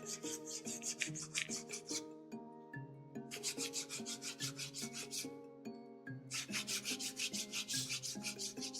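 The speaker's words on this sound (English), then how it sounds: "I'm just going to sand all of these together" Stacked laser-cut leather pieces, for goth collars, sanded together by hand, producing steady rhythmic back-and-forth rasping strokes, close and continuous with short pauses, no talk.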